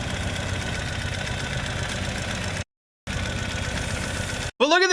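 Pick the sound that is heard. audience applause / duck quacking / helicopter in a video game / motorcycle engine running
motorcycle engine running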